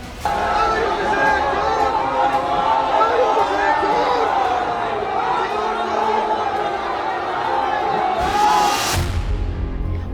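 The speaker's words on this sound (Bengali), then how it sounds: "বেরোনোর সময়ও চোর স্লোগানে গমগম করে উঠল ঠাকুরবাড়ি চত্বর" Dense crowd noise fills a temple courtyard where people chant 'thief' slogans during a political visit, a steady loud roar of many voices with shouted talk throughout, swelling briefly near the end.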